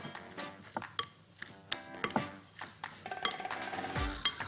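A utensil scrapes and clinks against a bowl, stirring a chicken pâté mixture in repeated strokes, close and fairly loud, with a few sharper metallic taps.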